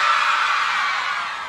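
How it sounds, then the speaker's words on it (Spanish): Loud, sustained screaming from a crowd of women at a live cumbia concert, a dense high-pitched roar that holds steady for over a second before easing slightly. "Ese grito bien fuerte de todas las solteras de Betano."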